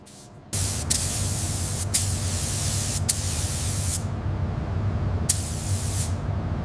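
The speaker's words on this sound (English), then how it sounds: "Several more coats of blue are added, building a deep, rich color on the Rolls-Royce body." Spray gun applying coat after coat of blue paint to a Rolls-Royce body under restoration, a steady close hiss running throughout with a few short sharper bursts, no voices.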